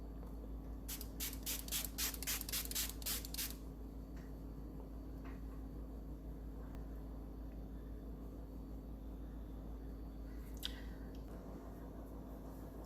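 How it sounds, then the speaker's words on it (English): Several quick bursts of hydrating setting spray misted onto a face, close and soft, in a rapid run of short hisses over a low steady background hum before the clip settles into quiet room tone. "let's spray our face. This is again Black Radiance Hydrating Setting Spray."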